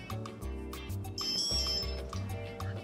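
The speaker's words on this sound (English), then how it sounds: "I heard the beep. I know it's ready now." A Raspberry Pi Zero inside an AIY Vision Kit gives a short, high startup beep once it finishes booting, heard over quiet background music.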